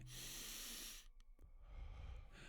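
Intense Wim Hof style breathing: a loud, hissing rush of air through the nose and mouth for about a second, followed by a short pause and softer breathy sounds, all close to the listener.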